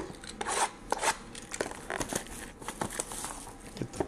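Scissors snip and plastic wrap crinkles as trading card packs are cut open up close, giving irregular sharp cuts and crackly rustling bursts with no voice.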